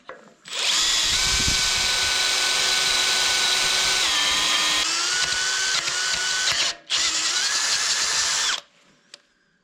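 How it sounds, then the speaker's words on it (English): A power drill whirs loudly and steadily for several seconds, its pitch shifting slightly, with a brief cut near the end before it stops. "you will either drill through or break the bit in half"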